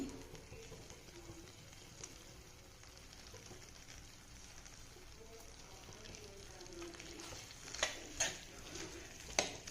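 Idli manchurian with fresh coriander leaves is stirred in a pan, giving a faint, low sizzle with soft scraping and a few sharper clicks of the spoon near the end, while a person talks quietly.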